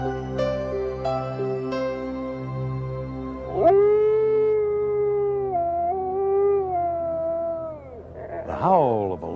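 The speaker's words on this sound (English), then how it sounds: "The howl of a lone wolf is a haunting sound that can fill your imagination with fear." A lone wolf howls in long, sustained wavering tones that rise and fall over a low background drone, ending in a sharper upward yelp.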